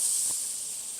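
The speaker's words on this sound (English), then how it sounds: "So we're going to put the butter in for now." Butter sizzling in a pan for chicken piccata, a steady bright hiss that holds through the moment and fades very slightly, close and fairly loud, with no talking.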